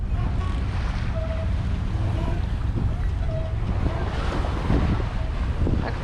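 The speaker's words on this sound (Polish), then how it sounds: "O, jaki ruch się zrobił. I prom, i motorówka." A ferry and a motorboat pass on the water at Southampton Water, heard from a sailing yacht as a steady low engine and water rush under heavy wind noise, with faint voices.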